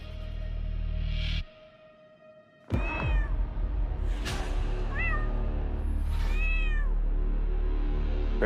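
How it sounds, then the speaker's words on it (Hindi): A pet cat meows several times indoors, clear close rising-falling cries spaced over several seconds, with a brief thud and room noise between them. "बिल्ली पाल रखी है आपने तो, हैं?"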